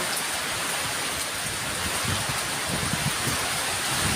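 Steady rain pours down in Bohol, a dense even hiss of drops hitting surfaces that holds at a constant level for the whole stretch, with no voices.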